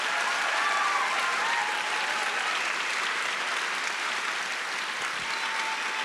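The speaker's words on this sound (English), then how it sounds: "Can we get another round of applause?" A large audience at a live film premiere and Q&A gives sustained applause, dense steady clapping that fills the room at an even, loud level for several seconds.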